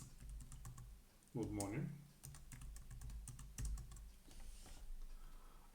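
Keys tapped in quick irregular bursts on a computer keyboard while entering a message into a workflow action in ETL software, close and clear, with a person briefly speaking partway through.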